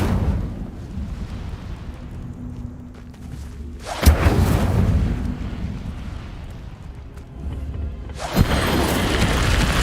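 Incendio fire spells cast in Hogwarts Legacy, heard as two loud whooshing bursts of flame a few seconds apart, each with a sharp onset and a roaring rumble, over low background noise.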